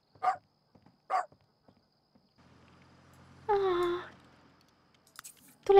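A pet dog in The Sims 3 video game barks in a few short yips, then gives one longer, louder bark-like call near the end, with quiet gaps of game ambience between.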